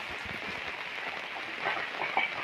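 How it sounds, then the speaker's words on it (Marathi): Steady, soft hiss of light rain falling, even and continuous, with a few faint patters standing out near the end. "पाऊस आता पण चालू आहे थोडा बारीक चालू आहे"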